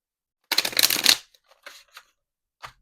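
Tarot timing cards shuffled with a close, crisp riffle burst lasting about half a second, followed by a few soft separate card flicks and taps, alone in otherwise silent surroundings.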